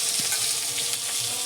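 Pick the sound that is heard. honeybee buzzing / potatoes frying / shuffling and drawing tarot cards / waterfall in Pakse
potatoes frying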